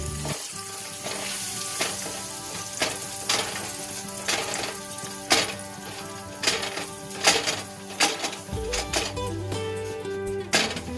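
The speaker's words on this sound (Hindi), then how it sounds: "और फिर मैदे को भी हम ऐसे ही फ्राई करेंगे" About two tablespoons of flour (maida) fry in a pan for a white sauce, giving a continuous loud sizzle broken by sharp scrapes and clicks of stirring, with no talking.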